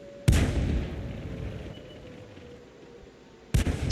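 BT7 artillery in World of Tanks firing HE shells: two sharp, heavy cannon blasts, one near the start with a long rumbling tail fading away and a second near the end, both loud and close with no talking.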